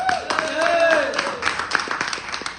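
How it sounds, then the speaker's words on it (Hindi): An audience at a seminar's closing session claps; scattered, sharp claps ring out beneath a prominent voice or tonal sound that runs throughout. "तो दोस्तों एक बार जबरदस्त तालियां हो जाए आप सबके लिए।"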